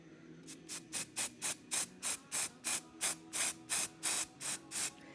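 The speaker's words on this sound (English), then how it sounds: "So you spray it on your legs and it helps build and cover up some of your adhesives" Aerosol can of Powderful powder spray from Sullivan Supply sprayed onto a sheep's or goat's legs in about fourteen short, even, evenly spaced hissing bursts, close and clear with no talk.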